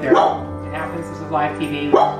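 A few dogs yip and bark in short bursts while a person keeps talking over them.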